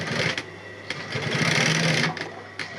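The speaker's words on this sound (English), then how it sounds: "Enter the back stitch. Then I will continue my stitch." A sewing machine stitches a multi-zipper men's cross-bag pouch, running in a steady whirring burst with a few brief pauses and clicks, close and fairly loud, with no talking.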